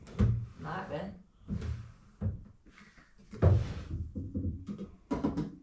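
Solid old original drawers in a historic 1840 hotel are opened and shut, with a few short knocks and slides under nearly constant conversation between people in the room.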